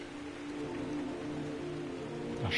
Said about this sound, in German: Da steht das Stanley und guckt in den Regen.